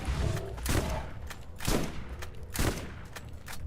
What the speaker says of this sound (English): I'm excited to try out this shotgun